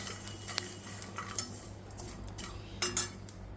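A metal spoon clinks softly against dishes while mustard and fenugreek seeds are measured out for a homemade hair dye. The clinks are brief and scattered and sound fairly close, with a louder pair near the end and no talk.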